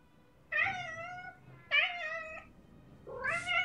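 Cartoon cat meows from the video game Echoes from Levia: Soulbound, three separate drawn-out mews spaced about a second apart, close and clear over a quiet background.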